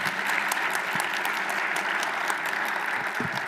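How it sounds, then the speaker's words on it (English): An audience at an annual leadership awards gala claps for an honoree, producing a steady, dense patter of many hands that holds at an even level for the full few seconds. "So clap for Roosevelt."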